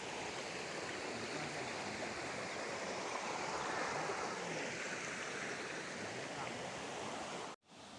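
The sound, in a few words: stream flowing toward a waterfall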